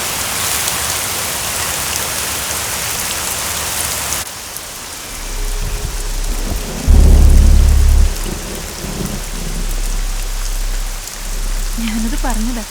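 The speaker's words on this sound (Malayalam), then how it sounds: "നന്നായിട്ട് ഇടിയും വെട്ടുന്നുണ്ട്" Heavy rain pours steadily across a stormy night, broken by a deep rumbling thunderclap in the middle, with rain continuing loud and hissing throughout.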